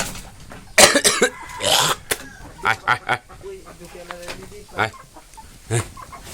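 Hill chickens on a poultry farm in Khagrachhari cluck in short, irregular bursts close to the microphone, with a few louder squawks near the start, while someone talks over them.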